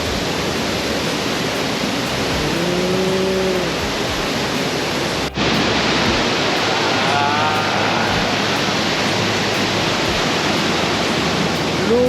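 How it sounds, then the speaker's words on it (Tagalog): Ambon-Ambon Falls in Bagac, with water plunging about 100 feet, gives a dense, steady roar of broadband rushing noise that fills the scene with only a few faint bird-like chirps and a brief click. "Mga 100 feet o 30 meters ang bagsak daw ng tubig pababa."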